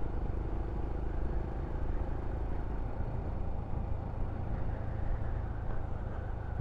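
A Royal Enfield Scram 411 motorcycle rides along with a steady low engine rumble and wind noise, heard continuously from the rider's position with no talking.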